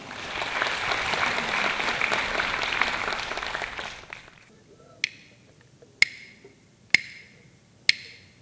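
Applause welcoming a performer at a choir charity concert for International Day of Persons with Disabilities, a full hall clapping for about four seconds, then stopping, followed by four sharp, evenly spaced rhythmic claps or knocks.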